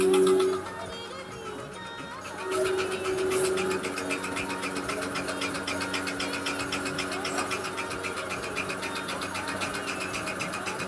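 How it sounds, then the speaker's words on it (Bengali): A milking machine runs steadily while milking a dairy cow on a dairy farm. It makes a continuous mechanical drone with a rhythmic pulsing throb, close and moderately loud. "তো এই দুধ দহানো মেশিনটা নাইমা খামারিদের ভালো উপকার।"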